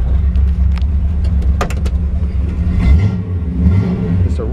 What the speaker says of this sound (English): It's a really nice exhaust sound. It's not overbearing.